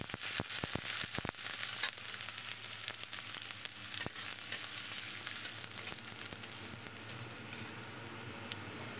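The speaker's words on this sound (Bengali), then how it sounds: "আবার কড়াইতে তেল দিয়ে দিয়েছি। এবার প্রথমে দেখো একটু আদা দিয়ে দিলাম, আদার পরে পেঁয়াজটা দিয়ে দিয়েছি।" Ginger and chopped onion fry in hot oil in a wok, making a continuous bright hiss and sizzle, with a quick run of sharp clicks and pops at the start before settling into an even frying sound.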